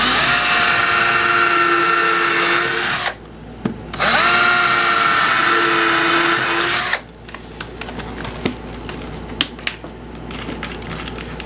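A power drill whirs loudly in two long bursts separated by a brief pause while pre-drilling PVC pipe storage, followed by lighter scraping and clicking sounds.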